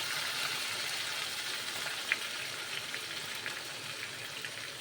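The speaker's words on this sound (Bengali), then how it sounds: "তেল গরম করে ওতে গোটা গরম মশলা, তেজপাতা, জিরে ফোড়ন দিয়ে" Whole spices, bay leaf and cumin seeds sizzle in hot oil in a home kitchen, a steady dense hiss and crackle running throughout with one small pop near the middle, no voices.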